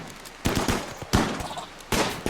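Gunfire in RimWorld as colonists fend off attackers including a giant spider: three sharp bursts of rapid shots, each a quick cluster of cracks followed by a short decaying tail, separated by brief pauses.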